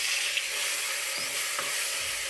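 Tomatoes and green chillies fry in a pan with spices and garam masala, giving a continuous loud, bright hiss of oil sizzling close by without any talk.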